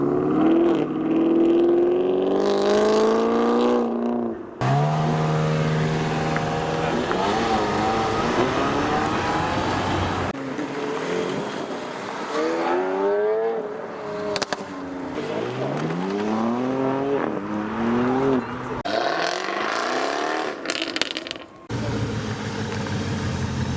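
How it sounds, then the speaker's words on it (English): A supercharged V8 Camaro ZL1 pulls away from a car show, followed by other supercars, including a yellow 360 and an Ascari, in a string of loud revving accelerations, gear changes and close passes over about twenty-four seconds. "The Camaro ZL1 with the yellow 360 behind. Listen to that supercharged V8."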